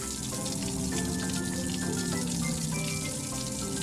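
A cartoon water truck sprays a steady shower of water, a continuous hissing splash mixed with background music, with no pauses.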